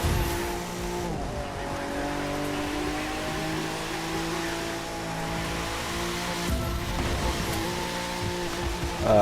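A stock Nissan 370Z in The Crew 2 racing game drifts with a sustained engine roar, shifting revs and long tire squeals, loud and continuous throughout.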